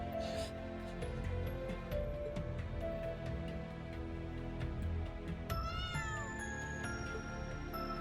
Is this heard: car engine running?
no